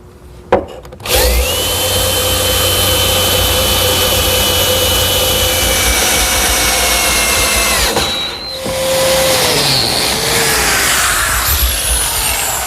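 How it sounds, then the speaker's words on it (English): A power driver whines loudly and steadily for several seconds as it drives screws up through the bottom of clamped wooden partitions in a laundry cabinet, then eases off briefly before a second, rougher run. "I'll attach them by driving some screws through the bottom."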